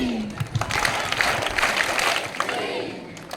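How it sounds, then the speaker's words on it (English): Schoolchildren clap together in a steady rhythm at a school gathering, a bright, busy wash of many small hands, with a voice briefly heard at the start. "Claps."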